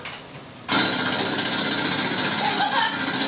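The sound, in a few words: person imitating a jackhammer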